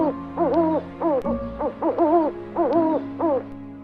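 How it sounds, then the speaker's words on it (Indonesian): An owl hoots several times in short, harmonic calls, clear and fairly close, with steady background noise. "Terdengar suara burung hantu beberapa kali dari atas sebuah pohon di pinggir jalan."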